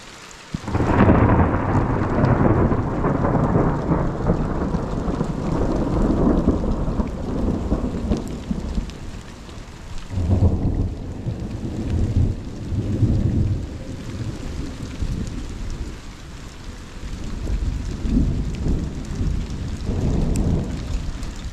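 A thunderstorm with lightning and rain over a mountain ranch: loud rolling thunder rumbles and swells repeatedly over a steady hiss of rainfall, with no voices.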